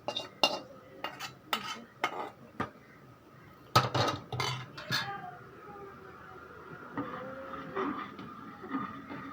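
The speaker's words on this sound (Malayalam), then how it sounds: "എന്നിട്ട് നന്നായിട്ട് ഒന്ന് കലക്കി അരപ്പൊക്കെ എല്ലാ പച്ചക്കറിയിലാവുന്നത് പോലെ ഒന്ന് ഇളക്കി കൊടുത്തതിന് ശേഷം" Ground coconut paste being stirred into sambar vegetables in a pot with a metal spoon: close clinks and scrapes against the pot, sharp and scattered at first, then a steadier, softer scraping stir.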